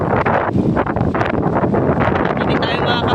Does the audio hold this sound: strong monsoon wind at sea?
yes